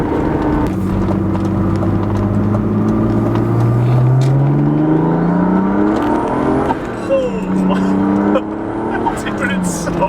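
A turbocharged BMW E36 M3 pulls hard under boost, its engine note climbing steadily in pitch through the gears, loud and close from inside the cabin, with a brief shift dip midway.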